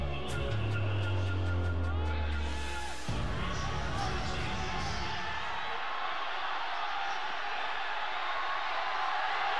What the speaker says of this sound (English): The roar from the crowd says it all as we get into this 5th game